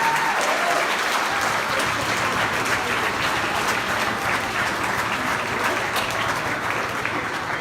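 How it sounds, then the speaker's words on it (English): A crowd at a community awards night gives a long, steady round of applause, dense and even throughout, with a faint low hum underneath. "So let's give one round of applause to everybody here tonight."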